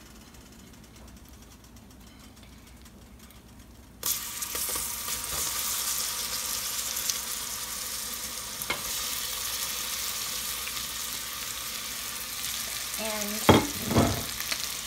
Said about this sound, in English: add in your banana slices and stir gently until the liquid thickens slightly